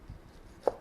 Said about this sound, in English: then you cut it across like into cubes